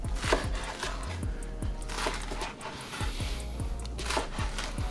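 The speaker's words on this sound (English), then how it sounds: "we simply just gonna chop these up, stem and all" A knife chops fresh young turnip greens, stems and all, on a wooden board, with a quick, steady run of close, crisp thuds that repeats evenly throughout.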